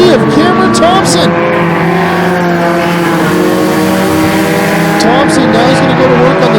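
Pure stock race cars thunder around Flamboro Speedway, several engines roaring together close and loud with rising and falling pitch as they run side by side, an announcer talking over the din.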